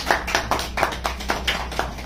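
Rhythmic clapping at a live music performance with a singer, about ten sharp claps at a steady beat over a low, constant background hum.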